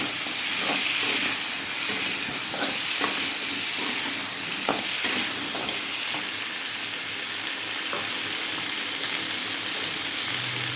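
Potatoes frying in a pan, a loud constant close sizzle and hiss with scattered scrapes and knocks of the spoon as they are stirred, no voices.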